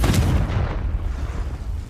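Confringo blasting spell from Hogwarts Legacy, a booming explosive burst with heavy low rumble that starts loud and decays into a sustained roar over two seconds, no talk.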